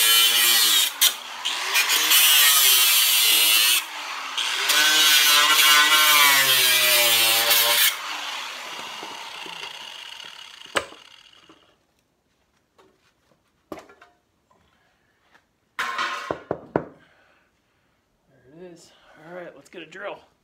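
A power tool cuts through plywood inside a locked antique safe, a loud, steady grinding whine for about eight seconds, followed by scattered clunks and handling noises while a person talks.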